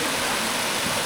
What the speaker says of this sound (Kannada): welcome to the secret hidden water falls